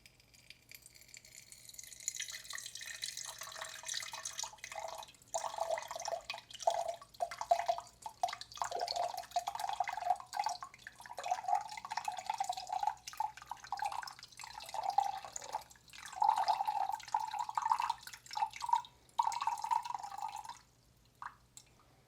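Water drips and patters steadily through a 3D-printed rain water filter with a fine mesh, a close, irregular stream of small splashes that swells and eases over about twenty seconds before stopping.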